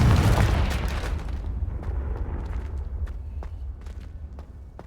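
A Confringo blasting spell detonates in the Hogwarts Legacy video game, opening with a loud, deep boom that fades into a rumbling tail with scattered crackles and light debris ticks, with no voices.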